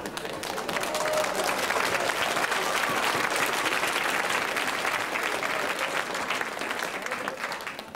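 An audience at a German television variety show applauds, a dense, steady burst of many hands clapping that fills the room continuously from start to finish.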